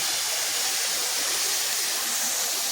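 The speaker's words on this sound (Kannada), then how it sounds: "ಇಷ್ಟು ಮೇಲೆಯಿಂದ ನೀರು ಬೀಳುತ್ತೆ" A small waterfall where water drops from a height into a bathing spot, heard as a dense, steady roar of rushing water, loud and unbroken with no voices.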